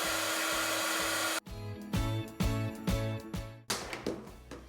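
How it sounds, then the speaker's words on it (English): A heat gun used for heat embossing a stamped card: a steady whirring blower hum with a low rhythmic pulsing, then it cuts out and restarts in short bursts with clicks and tapping, close and moderately loud. "I'm going to use the heat gun again."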